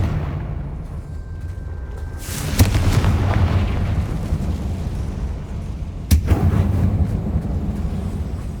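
Confringo explosion spell cast in a tomb-like mine in Hogwarts Legacy, two booming blasts several seconds apart over a low rumbling game ambience.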